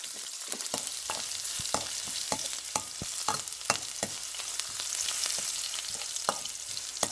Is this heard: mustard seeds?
yes